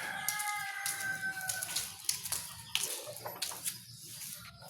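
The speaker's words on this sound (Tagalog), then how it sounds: "The super big chicken in the world." A very large hen clucking and calling in a farmyard, with a rooster-like cry and water-like splashing sounds mixed in, moderately near with scattered bursts over a steady low background.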